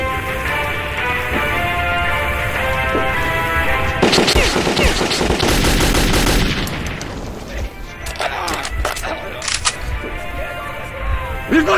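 Metro 2033 game combat: bursts of gunfire and sharp impacts crowd a dense firefight, with a sustained heavy volley in the middle and voices shouting over the noise.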